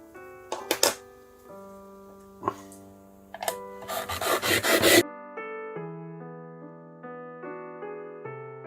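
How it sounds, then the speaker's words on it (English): Rasping strokes of sandpaper or a file over a thick piece of wood, several quick rubbing bursts building into a rapid flurry, followed by a quiet stretch with a soft tonal hum. "So I'll sand that down now."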